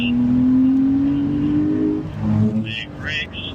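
Porsche on a race track accelerating hard, engine note rising steadily for about two seconds before easing, with brief tire or chirp sounds near the end.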